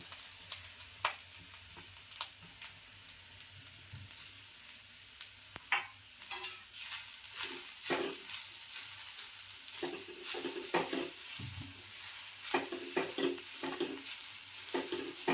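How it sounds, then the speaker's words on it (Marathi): Grated fresh coconut sautéing in ghee in a pan, a steady soft sizzle broken by frequent scraping and stirring knocks of a spoon, close and fairly quiet throughout. "आणि खोबरं सगळं जरा परतून घेणार मी 2 मिनिटाचं."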